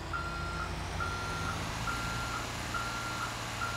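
A garbage truck in GTA 5 sounds its reversing alarm, a steady series of evenly spaced beeps over a low engine rumble, with no one talking.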